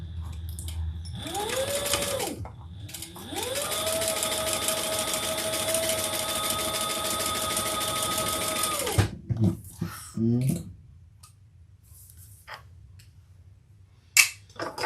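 Sewing machine stitching a straight seam down the edge of a handbag, running steadily in two bursts, a short one then a long even run, before stopping; rustling and handling noises follow.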